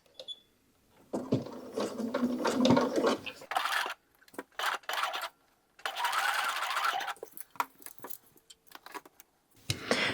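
Sewing machine stitching through velvet layered with brocade, running in several short whirring bursts separated by pauses and small handling clicks, close and moderately loud.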